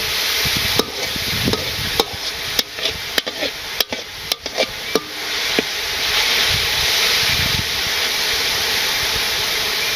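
Saag greens fry in a pan in a simple village kitchen. Sharp spatula scrapes and knocks come in a quick irregular run over a loud continuous sizzle, then the sizzle carries on alone.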